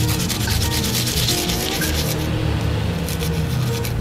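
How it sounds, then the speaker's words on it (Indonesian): Garlic cloves being grated finely against a grater, a close, steady rasping scrape repeated in quick even strokes with no talking. "Selanjutnya bawang putihnya kita parut halus."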